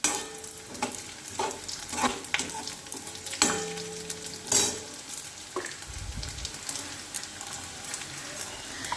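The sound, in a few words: peanuts frying in pan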